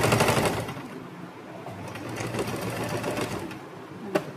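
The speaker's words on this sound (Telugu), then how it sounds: "టాప్ స్టిచ్ చేయడం కూడా అయిపోయింది." A sewing machine runs a rapid continuous stitching whir while top-stitching the lining of a kurti pocket, close and steady, easing slightly before a single sharp click near the end.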